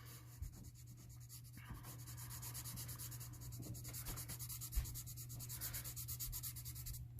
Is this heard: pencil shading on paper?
yes